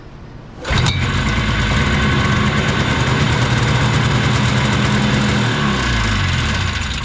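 A Yamaha Enticer snowmobile engine catching after a short quiet lead-in, then running loud and steady at a rough idle with a strong low throb and a slight dip in pitch near the end.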